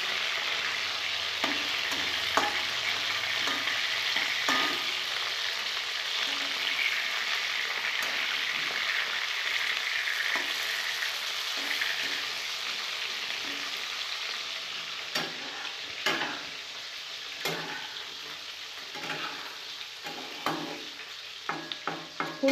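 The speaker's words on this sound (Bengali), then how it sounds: "ফুলকপিটা আমার ভাজা হয়ে গেছে," Cauliflower florets sizzle in hot oil in a home kitchen, a steady close crackling hiss with scattered sharper pops and spatters that grow busier toward the end, with no talking.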